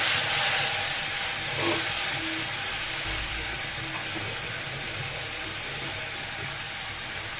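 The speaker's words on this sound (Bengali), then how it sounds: "দিয়ে দেবো সামান্য পানি" A little water pours into a pot of chickpeas with turmeric, a steady hiss and sizzle, continuous and close, no voices.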